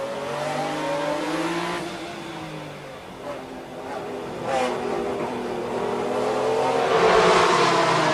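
Martini Porsche GT race car driven by Wolfgang Kaufmann at the 1995 BPR Global GT race start at the Nürburgring, a steady loud engine roar from onboard rising toward the end, with surrounding race cars and a commentator talking over it.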